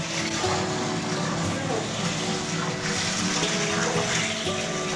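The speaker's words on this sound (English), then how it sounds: "We are filling this large pan with hot water and bark so we can tan the skins in the bark from the trees." Hot water rushes steadily into a large pan holding tree bark for tanning reindeer skins in northern Norway, a loud continuous gushing, with someone talking over it.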